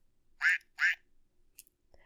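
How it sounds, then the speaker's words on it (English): A toy duck gives two bright, nasal quacks in quick succession, close and clear, followed by a couple of faint clicks in an otherwise quiet room. "It's a duck, and it quacks."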